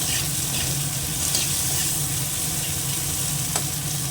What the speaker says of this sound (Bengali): একটু ভাজা হয়ে যাক পেঁয়াজটা